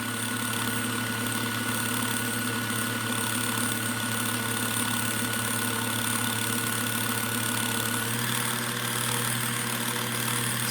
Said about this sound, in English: let the bobbin winder go ahead and wind a bobbin